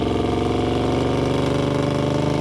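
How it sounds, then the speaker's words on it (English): Steady, close engine drone from a 1967 Plymouth Barracuda Formula S with a 340 V8, aluminum heads and a full aftermarket exhaust, cruising down the road at an even, moderate volume with no talk. "Not too terribly loud, but does have a good muscle car sound going down the road."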